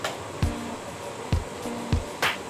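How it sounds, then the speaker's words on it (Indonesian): A 1500-watt heat gun blows hot air onto a transparent black sticker in short, repeated whooshing bursts, each starting with a soft click, close and fairly loud with no talk. "Kalau itu saya pakai hot gun"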